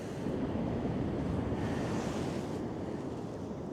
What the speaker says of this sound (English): Got the lovely sound of the waves crashing.